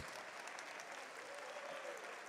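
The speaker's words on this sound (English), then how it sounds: "give them a nice round of applause" An indoor pageant audience gives steady applause, a dense even clatter of many hands, moderately distant and without talk.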